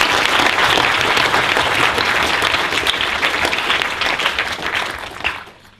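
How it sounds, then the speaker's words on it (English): Audience at an academic lecture on humanitarian interventions and the war on terror breaking into loud, steady applause that holds for about five seconds, then fades out. "I think we should give them a round of applause for this."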